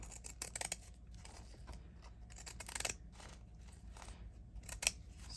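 Scissors snipping through a fabric wallpaper sample, a run of close crisp cuts and crunches with uneven rhythm, one sharper snip near the end, no talking.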